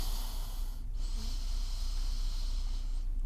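Steady airy breathing of a person holding a yoga stretch on a mat, a continuous soft hiss of breath with a brief pause near the start, close and fairly quiet with no talking.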